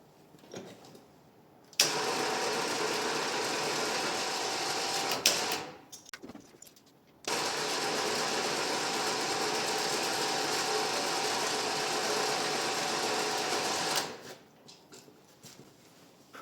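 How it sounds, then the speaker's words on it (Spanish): A battery-powered electric winch motor on a trailer whirs and grinds loudly in two runs, one of about four seconds and a longer one of about seven, each starting and stopping abruptly with quiet gaps between. "yo quería probar el motor, a ver que fuera bien para adelante y para atrás"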